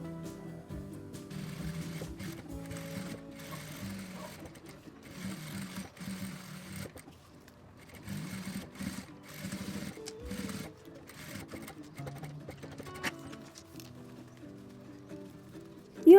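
Domestic sewing machine topstitching a fabric planner case, running in several bursts of rapid mechanical stitching separated by short pauses, close and moderately quiet, with a louder clunk at the end.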